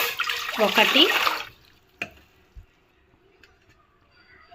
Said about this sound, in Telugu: 2 కప్పులకి 6 కప్పుల వాటర్ వేసాను.